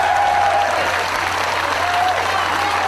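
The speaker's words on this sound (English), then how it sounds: "you can hear the applause" Wrestling fans applauding at a UK independent wrestling show, steady sustained clapping and crowd noise throughout with a whistle-like tone rising above it.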